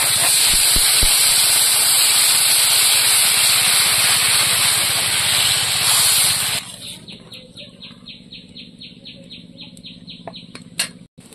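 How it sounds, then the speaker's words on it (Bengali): Water poured into a hot pan of pangas fish curry sets off a loud, dense hiss and rush for about six seconds, which then drops to a quieter bubbling boil with faint ticks. "কষানো হয়ে গেছে, এবার জল দিয়ে দেবো।"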